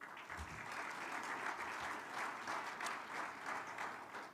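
An audience at a business forum claps in steady, continuous applause, a dense even patter from a crowd heard at moderate distance throughout.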